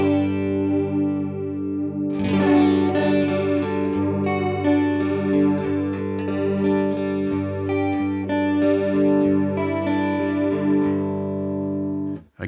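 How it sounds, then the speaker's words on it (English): Electric guitar run through a tape-style chorus on a Line 6 Helix, its wavering pitch modulation shimmering over sustained chords and picked notes, loud and steady throughout with no talking. "So this is a transistor tape that if I move the delay time, the pitch also fluctuates."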